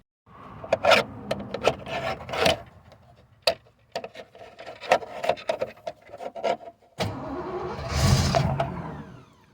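A clapped-out V8 Fox Body Mustang cranks in bursts with clunks and rattles, then catches and fires up into a loud, rough idle near the end.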